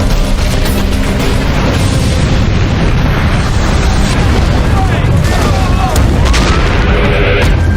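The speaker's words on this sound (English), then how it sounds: "firefighters respond to a series of explosions at an industrial gas supply company" Gas tanks exploding at an industrial gas supply company in St. Louis, Missouri on a hot summer day, a dense continuous roar of booms and bursts, loud and sustained, with voices underneath.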